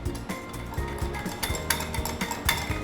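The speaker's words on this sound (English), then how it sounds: "Then from there, you can just combine all of the ingredients using a whisk." A whisk clinks rhythmically against a bowl while mixing a biscuit glaze of powdered sugar and milk, with quick, steady close taps.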